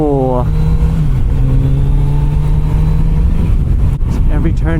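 A Kawasaki Z90 motorcycle engine drones loudly and steadily on a winding road of hairpin turns, its pitch dropping as the rider eases off, heard close up with wind rush and a brief voice near the end.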